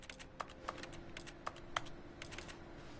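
Keyboard typing in the video game The Stanley Parable: quiet, irregular key clicks with a few sharper taps over a low steady office hum.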